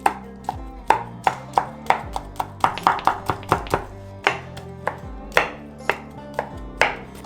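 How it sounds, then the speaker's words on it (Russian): A knife chops through cooked pork ribs along the grain in a steady run of sharp, close cuts with short gaps between strokes and no voices. "Отрезаем эту часть и нарезаем вдоль волокон."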